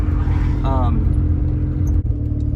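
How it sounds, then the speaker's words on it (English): A Mazda RX-7 FB rotary engine with a Racing Beat exhaust idles steadily at a slightly raised speed, a low continuous drone close by, with a brief voice passing over it. "The idle in this car is a little high."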